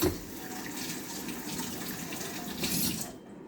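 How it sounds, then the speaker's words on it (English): A tap runs steadily into a sink as hands are washed, a soft continuous splash and hiss lasting a few seconds, then cutting off near the end. "Let me wash my hands real quick."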